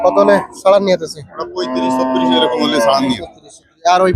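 A cow lets out a long, loud, close moo between bursts of people talking nearby at a cattle market in Betagi.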